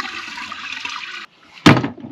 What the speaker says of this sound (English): I'm gonna empty the black tank.